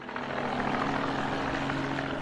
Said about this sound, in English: A lot of aircraft take off on a day like this.